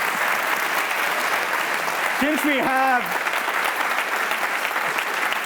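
Steady, dense applause from a large audience greeting a venture capitalist, a continuous wash of clapping throughout with a brief spoken word rising over it midway.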